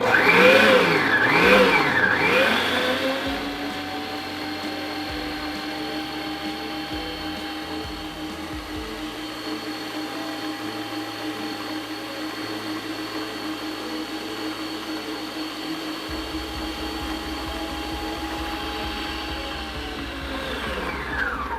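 Stand mixer running steadily at speed 1, beating sugar into a white butter cake batter in a kitchen; a continuous close motor whir with a louder start for the first few seconds, then an even hum that winds down at the end.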